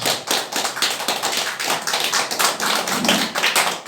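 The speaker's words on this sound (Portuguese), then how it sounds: "Dê uma salva de palmas bem forte para Jesus." A church congregation claps loudly and steadily together in dense, continuous applause, close and full, with no talking over it.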